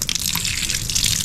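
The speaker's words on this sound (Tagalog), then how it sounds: "ay tuloy-tuloy pa rin ang kanyang flow ng tubig o hindi siya maisara ng maayos" Water gushes steadily from a faucet that cannot be shut properly, a close, continuous splashing flow with no talking.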